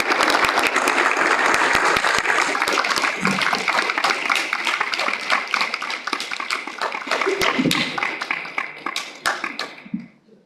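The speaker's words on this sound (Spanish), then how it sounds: "Un fuerte aplauso para el doctor Rolando Ángel Alvarado" Sustained audience applause welcoming a lecturer, Dr. Rolando Ángel Alvarado, at an academic talk on music teachers' activism; dense steady clapping fills the room, then thins into scattered claps before fading near the end.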